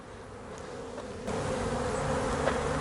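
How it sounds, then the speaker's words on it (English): A dense, steady drone of hot, aggressive bees swarming nearby around a hive, growing slightly louder partway through and continuing without pause. "so that the bees will go back inside"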